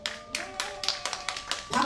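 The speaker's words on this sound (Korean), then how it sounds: "박수 소리가 약해요." Thin, scattered applause from a concert audience at Bupyeong Arts Center, about a dozen distinct single claps spaced unevenly and fairly quiet, with a faint sustained tone underneath.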